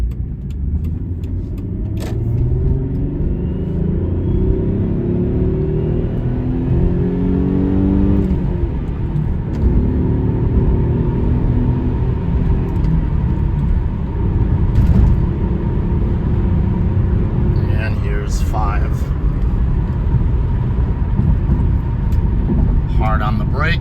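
A 1993 Ford Probe GT engine pulls steadily under acceleration while driving, a loud continuous low drone with road and wind noise throughout, and a voice talking over it.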